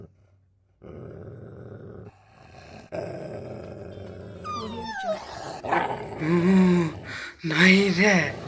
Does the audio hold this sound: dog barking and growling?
yes